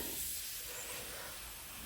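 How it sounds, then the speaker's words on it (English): An airbrush spraying base paint onto a 3D-printed figure gives a faint, steady hiss that continues unbroken for the whole moment, with no voices. "I spray a little bit of the base, only shade"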